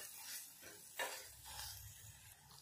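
Spice masala frying in oil for green pea pulao, with a soft steady sizzle, light stirring scrapes and one brief clink of utensil against the pan, all fairly quiet.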